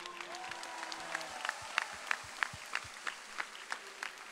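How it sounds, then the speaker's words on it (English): Scattered hand claps from an audience at a college new student convocation and pep rally, quiet and distant, with a few sharper claps standing out over a soft crowd murmur. "Let's give everyone a round of applause real quick."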